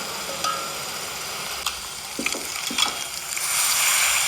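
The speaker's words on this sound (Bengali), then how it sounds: "এটা ভালো করে আমাকে কষিয়ে নিতে হবে।" Ginger-garlic masala for palak paneer sautéing in a pan, a steady loud sizzle and crackle with a few stirring scrapes, the frying hiss swelling toward the end.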